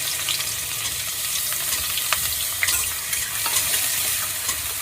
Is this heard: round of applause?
no